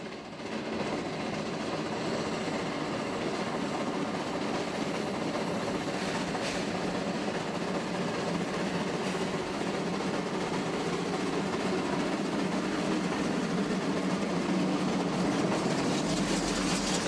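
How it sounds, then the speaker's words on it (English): Scenic train crossing Clear Creek on a looping Colorado mountain track, with a steady, close rumble and rhythmic clickety-clack of wheels on rails filling the whole stretch without pause. "Our train is crossing over Clear Creek and the railroad tracks that we were on only minutes ago."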